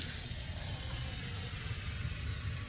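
A tap runs a steady stream of water into a container in a sink, filling it with cold water for a turkey brine; a continuous close hiss and splash with no talk.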